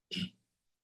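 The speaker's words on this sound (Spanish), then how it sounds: "Perdón, ando con un poco de tos." A single short, throaty cough, close by, followed by silence.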